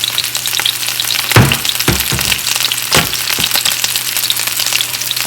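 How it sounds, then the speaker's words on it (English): Sea bass fillet sizzling in a hot pan, a steady close frying hiss with a few louder spits and crackles as the fish cooks, no talking. "The sea bass really cooks fast."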